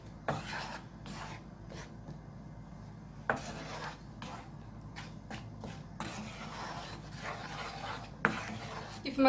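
Caramel being stirred with white chocolate in a pot, repeated rubbing and scraping strokes of a utensil against the pot in an uneven rhythm over a low background hum, close and fairly quiet, no talking.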